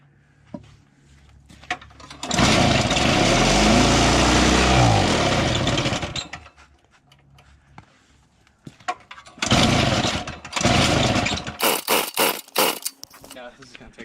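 A Toro S200 snowblower's small engine roars for several seconds after starting, then dies back and sputters into a few more uneven bursts of revving, with someone talking in the gaps.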